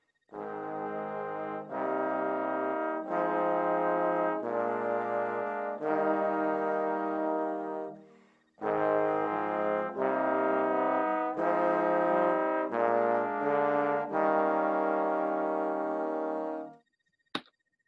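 Several trombone parts play sustained harmonized chords together in two long phrases, low and mid voices blending, with a short pause in the middle.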